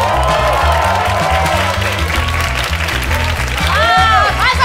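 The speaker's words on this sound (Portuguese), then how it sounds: "Ah, mais aplausos" Comedy club audience at a stand-up show clapping loudly and steadily, with a thumping music beat underneath and a few whistles and cheers rising near the end.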